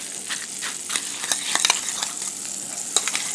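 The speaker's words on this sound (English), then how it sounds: "So what I'm going to do is I'm going to mash it up." A utensil mashing a defrosting frozen egg puck in a bowl, with repeated light clicking and wet scraping strokes, each scrape brief and crisp, heard close up.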